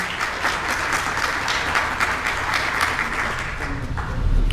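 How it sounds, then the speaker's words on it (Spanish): An audience at a formal lecture on constitutional law breaks into steady, dense applause that fills the whole stretch and swells slightly at the end, with no voices over it. "Aplausos para el maestro Francisco Gómez Valdés"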